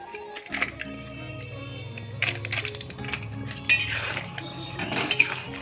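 A metal spoon clatters and scrapes around a pot of moong dal with fish head as ground garam masala is stirred in, busy close clinking and knocking that builds in intensity.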